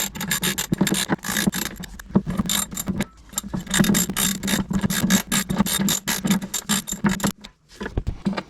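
A ratchet clicks rapidly and steadily, close up, tightening the jet pump bolts on a 2021 SeaDoo GTI, with brief pauses between runs.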